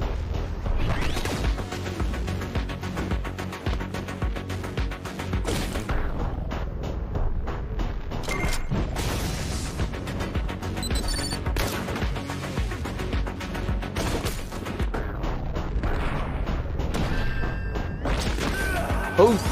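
Rapid bursts of gunfire and impacts from the video game Katana Zero crackle over a busy mix of effects, with overlapping chatter from players.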